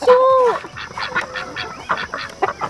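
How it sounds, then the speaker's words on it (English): Farm ducks give loud, nasal honking quacks close by, one drawn-out call followed by a run of shorter, rapid calls. "I got ducks yesterday."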